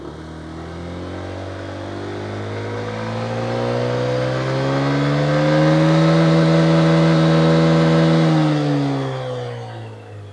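A Zontes 150X motorcycle engine held at top speed with no load, a loud, close, steady drone whose pitch rises slowly, holds high, then eases off near the end.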